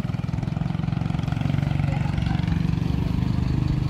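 A motorcycle engine putters steadily at a low, even idle, close by and fairly loud, at a ferry landing in Pão de Açúcar, Alagoas, with no voices over it.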